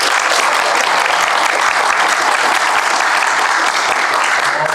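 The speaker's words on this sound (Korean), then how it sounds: "우렁찬 박수로 시작하니까 기분이 좋아집니다" Loud, sustained applause from an audience at a youth talk concert on first-time voting, thick and even clapping with no voices over it.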